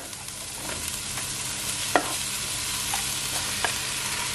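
Sweet peppers and other vegetables for chicken chow mein sizzle and fry in a pan, a steady loud hiss broken by a few scraping stirs and light clicks, with no talk.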